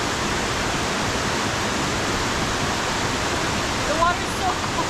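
A waterfall on a hiking trail roars as a steady, dense rush of falling water, loud and continuous throughout and close by, with only a faint trace of other sound near the end.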